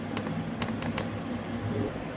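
Computer keyboard typing during a short typing test at home, rapid irregular key clicks with a few sharper strokes over a steady low room hum, close and moderately loud.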